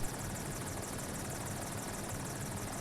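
An Airbus AS350 B2 A-Star helicopter flies high overhead above Metro Vancouver, its steady rotor thrum and whine carrying evenly and moderately loud with no talking.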